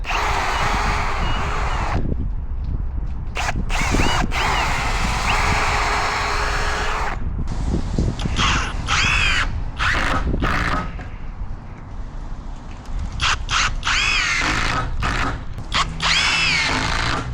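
A power drill whirs in several short bursts with brief pauses between, loud and close, starting and stopping as it bites in, pre-drilling for screws while building a steel fence.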